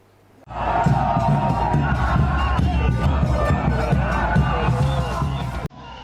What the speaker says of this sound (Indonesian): Sorak-sorai menggema di Bogota, Kolombia saat Los Cafeteros memastikan langkah ke babak 32 besar Piala Dunia 2026